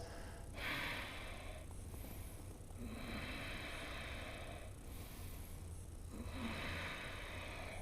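Slow, deep breathing during a yoga flow class, long airy inhales and exhales repeating in a steady rhythm, close and clear with no talking.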